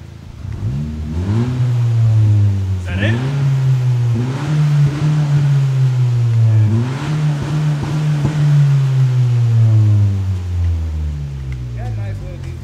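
10th gen Honda Civic with a new catback exhaust revs repeatedly close by. Deep tone rises and falls in several throttle blips, with people talking over it.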